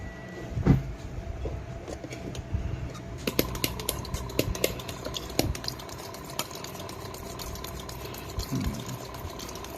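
An injector cleaning machine works on three Toyota Vigo fuel injectors, giving steady liquid spraying and hissing with rapid mechanical clicking that turns denser and louder partway through, close and continuous with no talk.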